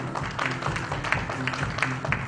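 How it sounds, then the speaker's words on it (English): A conference audience at India's Payment Corridor event gives a round of applause, a moderate, dense patter of clapping hands that holds steady throughout with a faint room murmur beneath. "Can we have a big round of applause for all of them?"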